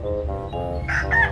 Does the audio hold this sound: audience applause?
no